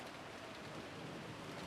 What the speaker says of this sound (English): Oh, we get the soothing sound of rain for the break.